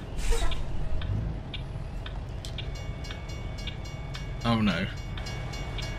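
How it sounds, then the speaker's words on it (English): A freight train rolls past in American Truck Simulator over a steady low road and engine rumble, with a brief rising horn-like blast near the end as someone talks. "Where's the train at?"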